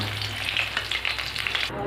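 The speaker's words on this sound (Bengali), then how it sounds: "এই পাশটাও ভালো করে আমি ভেজে নেব।" Bata fish crackles and sizzles in hot oil, a close, busy fry with small spitting pops that stops abruptly at the very end.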